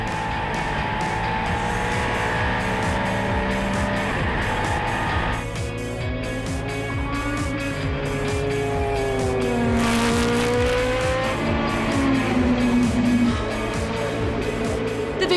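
Classic race cars, including a Porsche 962, racing at the Spa circuit during Spa-Classic 2016, with loud continuous engine roar, rising and falling pitch as cars pass and shift, and a brighter burst midway.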